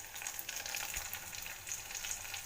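Stuffed brinjals fry in hot oil, making a steady bright sizzle with scattered crackles and a soft stir. The sound is fairly quiet and close, with no voices.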